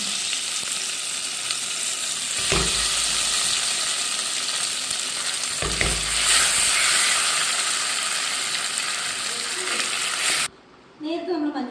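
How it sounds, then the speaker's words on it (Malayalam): Mustard seeds spluttering in hot oil in a pan, then boiled tapioca stirred in, making a steady loud sizzle with scraping strokes of a ladle, ending in brief quiet and faint movement. "എണ്ണ ചൂടായിട്ട് കടുകിടണം. കടുക് പൊട്ടി തീരുമ്പോഴത്തേക്ക് നമ്മൾ എന്ത് ചെയ്യും, കപ്പിടും."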